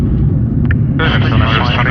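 Four-engine An-124 Ruslan cargo jet landing with engines in reverse thrust, a loud continuous roar that swells and brightens about halfway through, with crew voices talking over it in the cockpit.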